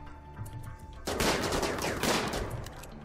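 Colonists exchange gunfire in the RimWorld video game: after a quiet, droning start, a dense burst of rapid automatic shots erupts and keeps crackling for about two seconds.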